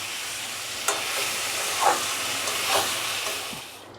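Hot oil sizzling in a pan while mushroom biryani cooks, a steady broad hiss with a few brief louder flares, close and continuous.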